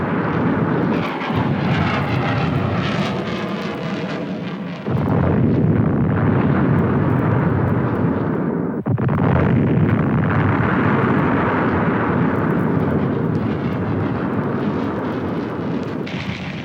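Military aircraft roar overhead during Vietnam War tactical airstrikes, a loud sustained engine drone broken by heavy explosive blasts and rumbling, continuous and dense throughout.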